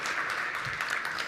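Steady, dense clapping from a conference audience, filling the whole moment at an even loudness without pause.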